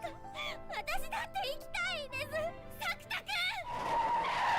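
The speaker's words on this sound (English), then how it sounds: "People getting hit by trucks?" A sharp tire screech and skid from a truck hitting someone in an anime trailer comes near the end, loud and rising, after a stretch of high, animated voices with music.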